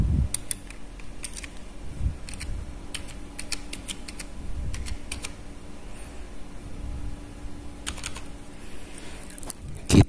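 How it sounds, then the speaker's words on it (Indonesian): Someone types a password on a computer keyboard, with a steady run of light, quick key clicks over a low background hum and no voices. "Saya masukkan dulu passwordnya."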